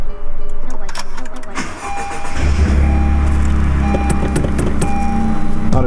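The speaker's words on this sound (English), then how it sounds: "Let's go ahead and start up the car." A 2018 Honda Civic Si cold-starts with a short starter crank that catches into a loud, steady idle hum. A few clicks come first, then a brief voice.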